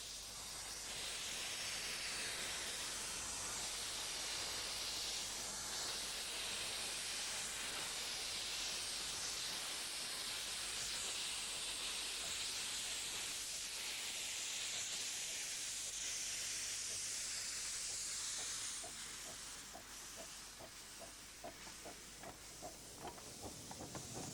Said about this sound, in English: The first locomotive to depart from New Romney, bound for Hythe, is number 3, Southern Maid.